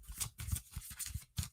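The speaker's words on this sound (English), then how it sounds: "My shuffling has not gotten any better." Tarot cards being shuffled by hand close by, a quick series of riffling bursts with brief pauses between them.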